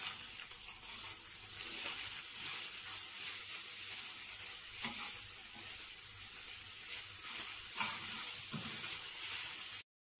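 Meat sizzles in hot vegetable oil in a preheated frying pan, a steady, loud, hissing crackle running unbroken until it cuts off abruptly at the end.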